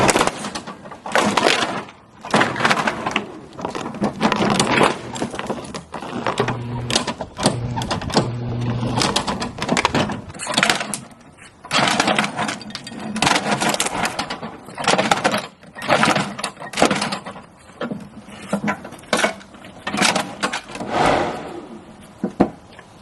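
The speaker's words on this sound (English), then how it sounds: "I'm not stopping the lawnmower" A lawnmower shreds plastic toys in rapid, irregular clattering and crunching bursts, loud and close, going on for a long stretch without talk.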